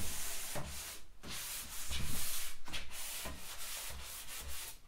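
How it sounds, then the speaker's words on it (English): A 400 grit sanding block rubs by hand across a painted laminate dresser, giving rhythmic, close, soft scratchy strokes in repeated back-and-forth passes with no talking. "I work my way around this piece with the sanding block"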